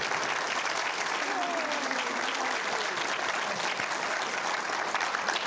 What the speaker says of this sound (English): if we could give a round of applause to all of our panelists